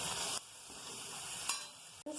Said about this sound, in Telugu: ఇప్పుడు ఈ చిక్కుడుగాయలన్నీ పోపులు వేసి ఉడికించుకుందాం.